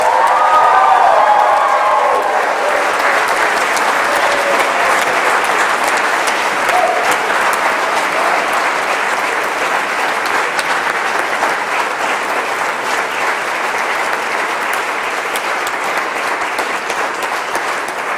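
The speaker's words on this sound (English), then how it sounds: "please applaud them." A graduation audience at Vanderbilt University's Next Steps 2017 ceremony breaks into loud, sustained applause that fills the room steadily from start to finish, with some cheering mixed in.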